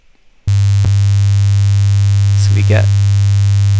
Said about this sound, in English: a 100 Hertz sine wave there